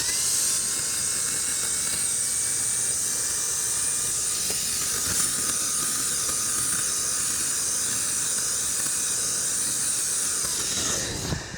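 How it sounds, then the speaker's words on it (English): An air blower fitted with a fan nozzle blows sediment across a surface, producing one loud, continuous, even hiss of rushing air that lasts about eleven seconds before cutting off abruptly. "Let's put this fan nozzle on. I don't know what it's gonna do, but let's just see maybe if I can blow some of this sediment back this way."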